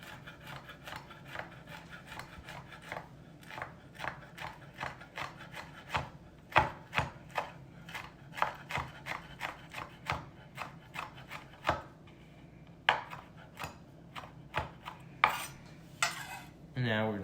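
Chef's knife rock-chopping food on a cutting board in a cooking class, a steady run of close, rhythmic blade taps with soft scraping between strikes, continuing for many seconds with no talking.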